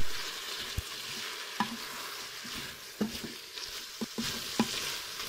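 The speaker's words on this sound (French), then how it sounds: "On va venir y remettre la viande. On va mélanger." Beef and tomato stirred in a Cookeo multicooker: sparse, sharp spoon scrapes and clicks against the pot over a soft, steady sizzle, fairly quiet and close.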